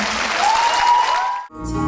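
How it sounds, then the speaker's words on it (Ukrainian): A concert audience at a show in Kalush applauds in a full, steady roar, then the sound cuts abruptly and a different musical tone follows. "Низький уклін вам за ваші оплески."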